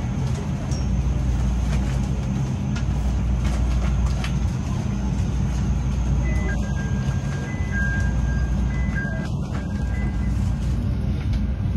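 A Chicago CTA Red Line subway train bound for Howard rolls toward Bryn Mawr station with a steady, loud low rumble of wheels and car body, a few faint high squeals and tones cutting in, no talk.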